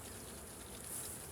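Honeybees swarm around an opened hive, giving a faint, steady buzzing hum that stays low and even throughout, with no voices.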